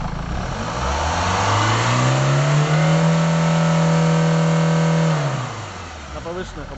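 A car engine under diagnostic testing revs up from idle, holds a steady loud higher-RPM drone for several seconds, then winds back down toward idle.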